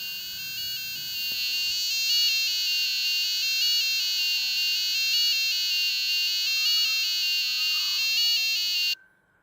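A piezo buzzer driven by an STM32 microcontroller board plays the Stranger Things theme as a steady run of shrill electronic tones, loud and close, continuing for several seconds before it stops abruptly.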